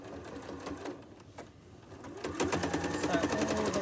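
Sewing machine stitching a fabric tote bag around its handle and top edge, a fast rhythmic mechanical chatter that pauses briefly then resumes louder and steadier, close by and moderately quiet.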